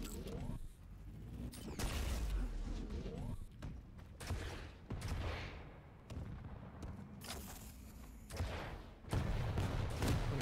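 Rapid weapon fire crackles through a Quake 1v1 championship match, with repeated sharp bursts and booms mixed with game mechanisms, while a commentator talks over the action.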